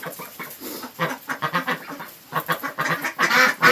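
Newly added ducks meeting an established backyard homestead flock give off a run of loud, close quacks and honks in uneven bursts, with no talking.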